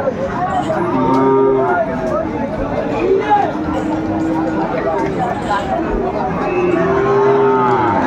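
Cattle moo repeatedly over a busy crowd at a livestock market, several long low calls rising above constant chatter and people talking nearby.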